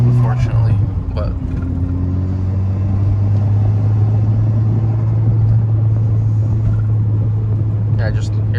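Idling Mk6 Golf R four-cylinder engine, a steady low rumble with a faint blip early on, held close and continuous with brief light noises near the end.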